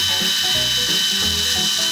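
A drill fitted with a knife sharpening attachment whirs loudly and continuously, its pitch wavering slightly as the blade is worked against it, with no talk.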